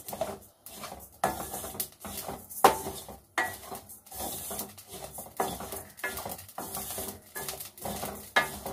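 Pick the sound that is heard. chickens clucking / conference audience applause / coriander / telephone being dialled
coriander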